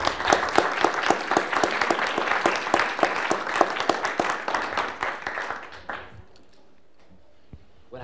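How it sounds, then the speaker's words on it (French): A room of attendees at a panel on press cartooning applauds the speakers, dense clapping for about six seconds before it thins out and fades into quiet. "Je propose qu'on les applaudisse bien fort."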